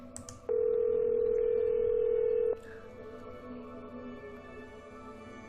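A cell phone in the Nancy Drew video game places a call: a steady ringback tone runs for about two seconds, then a quieter tonal hum follows. A brief click comes at the start and again at the end.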